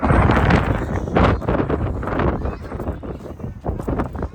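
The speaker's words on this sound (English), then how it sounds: "So windy." Strong wind roars and buffets the microphone continuously, loud and close, with no clear speech over it, outdoors on rocky ground at Seven Magic Mountains.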